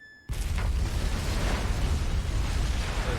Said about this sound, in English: A explosion was right there.